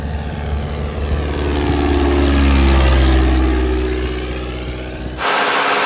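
A small propeller airplane flies low along a runway: a loud, droning engine and propeller note rises as the plane draws near, peaks overhead, then shifts as it passes before cutting off abruptly.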